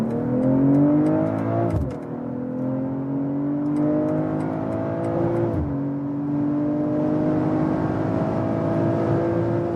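A BMW M340i in Sport Plus mode accelerates hard on the German Autobahn. The engine note climbs steadily and loudly, broken by two quick upshifts, with no talking.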